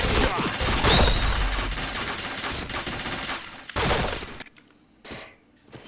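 Rapid bursts of automatic gunfire crackle in a shooting video game, dense and loud for several seconds before tapering into a few isolated shots.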